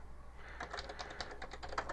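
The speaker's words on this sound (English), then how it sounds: "We'll start by typing the name of our map." Keys tapped on a computer keyboard while a map name is entered, a quick irregular run of light clicks at close range over a low steady hum, with no voices.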